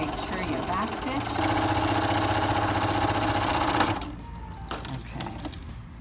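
Sewing machine running steadily while stitching a 3/8 inch seam with backstitching on a simple elastic-waist skirt, a continuous mechanical whir for about four seconds that stops, followed by quieter handling.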